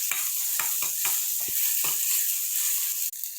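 Tomato, green chili and a pinch of turmeric sautéing in a pan, a constant bright hiss of frying with repeated short stirring knocks and scrapes, close by and with no talk.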